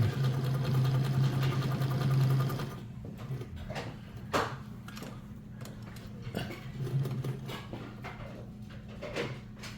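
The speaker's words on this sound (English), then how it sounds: "Give it a little gas, and we're sewing." An Emdeko sewing machine runs as it stitches fabric, a close steady motor hum for the first few seconds that then stops, followed by quieter handling clicks and a brief second burst of running.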